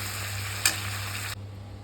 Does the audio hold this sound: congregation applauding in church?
no